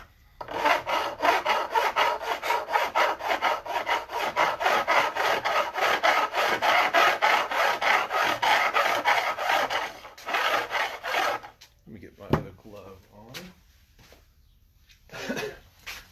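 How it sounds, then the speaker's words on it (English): A fret leveling file rasps back and forth across guitar frets in quick, steady strokes for about ten seconds, close and fairly loud. A few scattered scrapes and faint handling noises follow once the filing stops. "We'll start with our fret leveling file"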